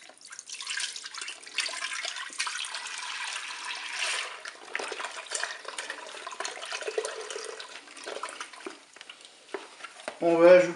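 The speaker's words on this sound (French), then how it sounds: "Je verse le lait dans la cuve." Milk pours into the pot of a Cookeo multicooker, a continuous splashing, liquid rush lasting several seconds, close and fairly loud, before a short voice cuts in at the end.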